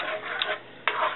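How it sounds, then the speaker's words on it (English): A spoon works through thick tomato paste from two cans in a pot for lasagna sauce, making soft, close scraping and squelching strokes with a sharper scrape near the end. "we're gonna stir it"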